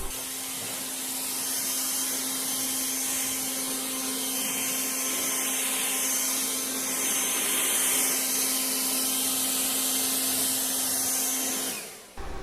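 A TEH LAB1250 cordless leaf blower runs steadily and loudly at close range, a constant whooshing airflow with a fixed motor whine that holds for about twelve seconds before cutting off abruptly at the end.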